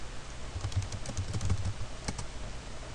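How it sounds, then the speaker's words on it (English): Keys clatter on a computer keyboard in quick, uneven bursts of close, soft clicks, with a short pause before a final couple of taps. "Just type cd followed by the directory you want to change to."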